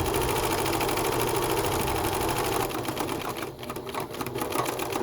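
Home sewing machine stitching a fabric ninja roll, a steady rapid whirring drone that runs continuously, then eases slightly in the final seconds as the fabric is guided.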